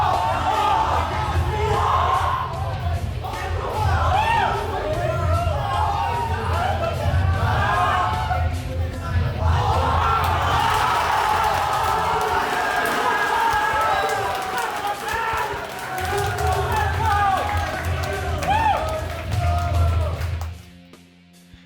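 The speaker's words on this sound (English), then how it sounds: "showing the pop-off from the crowd upon seeing SebPro's victory" An Indonesian fighting-game tournament crowd erupts after SebPro's victory, loud sustained cheering, whooping and shouting from many people in a packed hall, swelling and dipping before cutting off abruptly at the end.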